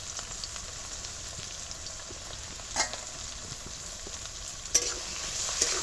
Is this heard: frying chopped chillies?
yes